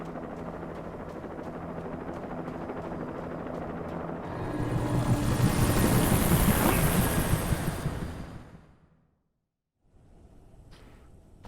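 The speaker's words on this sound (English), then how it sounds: "You hear a helicopter?" Helicopter in the Alan Wake game passing overhead: a broadband whirring roar swells to a loud peak midway, then cuts off abruptly into near silence before quieter ambience returns.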